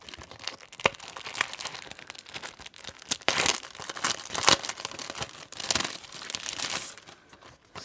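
A plastic packet of planner quote cards crinkles and rustles close up in continuous irregular bursts of crackling as it is handled.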